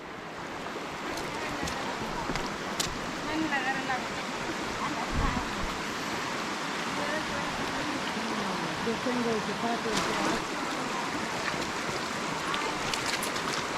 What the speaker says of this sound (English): We're gonna cross the river here